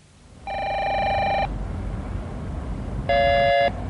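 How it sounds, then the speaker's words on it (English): A mobile phone rings in two electronic trilling bursts separated by a short pause, loud and close over a low steady background rumble. "and the mobile phone rings"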